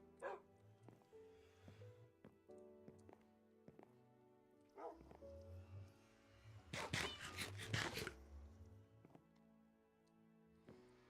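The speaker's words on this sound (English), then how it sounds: "we got 2 dogs" Two dogs in the Minecraft video game bark in a quick burst of several short yelps midway, over soft game music with little talk.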